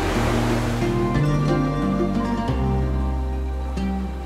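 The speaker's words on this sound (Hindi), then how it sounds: "पानी के थपेड़े हमारे पैरों पे पड़ने लगे" Sea waves wash steadily onto the shore at Anjuna beach in North Goa, a loud, continuous surf roar with low rumbling swells and no talk.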